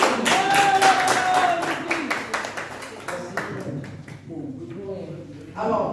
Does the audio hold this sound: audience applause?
yes